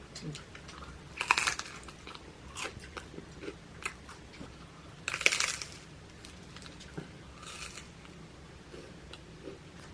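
Someone crunches into a homemade cucumber snack, with two loud crisp bites and quieter chewing clicks between them, close to the microphone, alongside soft talk.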